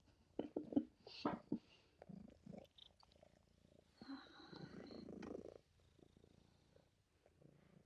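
A pet cat named Maple purrs while lying on its owner's belly during a yin yoga session, a soft close rumbling purr with faint rhythmic breathing and small shuffles.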